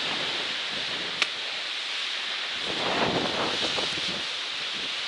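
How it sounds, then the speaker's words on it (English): Steady rushing wind near a mountain summit on the Appalachian Trail's Chairbacks buffets the microphone, swelling into stronger gusts partway through, with a brief sharp tap early on. "It's super windy, so probably not gonna spend much time at the top."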